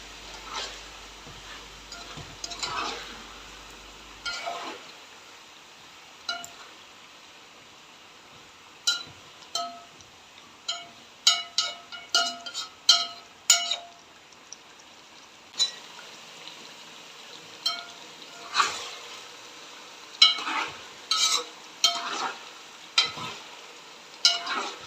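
Meat and onions fry for Uzbek Tashkent plov, a low sizzle broken by repeated sharp metallic clinks and scrapes of a utensil stirring in the pot, irregular and close, with no talking.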